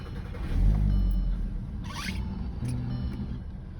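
A used car with a check engine light and stolen catalytic converters starts up, its engine catching with a low rumble that swells early and settles into a rough, steady idle.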